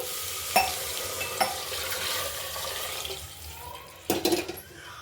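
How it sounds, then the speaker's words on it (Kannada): Water goes into a hot pot for ghee rice, giving a close rushing, hissing splash that swells and fades, with a few sharp clinks from the vessel and no speech. "ಇದರಲ್ಲಿ ನಾನು 2 ಲೋಟ ಅಕ್ಕಿ ಹಾಕ್ಕೊಂಡಿದ್ದೀನಿ, 4 ಲೋಟ ನೀರು ಹಾಕ್ಕೊತಾ ಇದ್ದೀನಿ."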